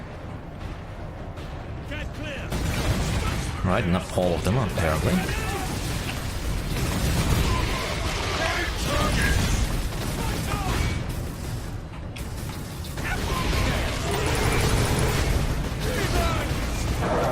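Sustained suppressive gunfire and explosive bursts from a battle in Warhammer 40K Space Marine, loud and continuous across the clip with a short spoken line over the din.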